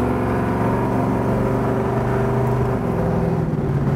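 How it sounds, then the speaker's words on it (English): A 1966 Chevrolet Chevelle convertible with an aftermarket exhaust accelerating on a speed run, a loud, close, droning engine and exhaust note holding steady with rising and falling harmonics and no talking. "The exhaust system on the car just sounds awesome."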